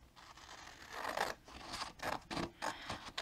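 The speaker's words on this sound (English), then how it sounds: "we're going to trim away these sides real quick and cut away my score lines" Scissors snip and slice through a paper envelope template for pocket letters, a close, quiet run of crisp cuts and papery scratches in an uneven rhythm.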